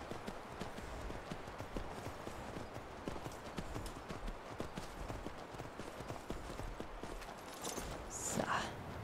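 Steady clip-clop of horse hooves at a brisk walking rhythm in the video game Skyrim, continuous and fairly close, with a brief brighter burst of sound near the end.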